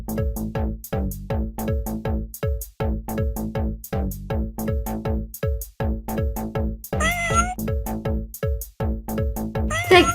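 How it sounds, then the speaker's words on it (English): Kittens meow in a fast, steady stream of short, high calls repeated one after another, loud and close throughout. "The kittens. These are absolutely adorable."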